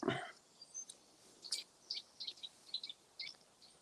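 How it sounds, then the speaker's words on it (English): Faint, distant bird calls: a string of short, sharp high taps repeating irregularly over quiet outdoor background, with no talking. "That tap, tap, tap call was a nuthatch."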